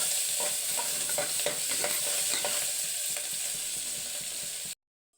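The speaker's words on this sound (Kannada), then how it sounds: "ಇವಾಗ ಚೆನ್ನಾಗಿ ಎಲ್ಲ ಫ್ರೈ ಆಗಿದೆ." Carrot, green chilli, coriander and onion fry in a pan for chitranna, a continuous bright sizzle with scattered stirring scrapes, then the sound cuts off abruptly near the end.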